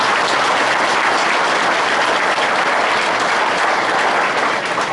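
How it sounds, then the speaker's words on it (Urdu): Sustained, dense audience applause welcoming a guest at a speech and award event, loud and steady throughout with no talk over it. "تو ایک بار تالیوں سے استقبال کریں۔"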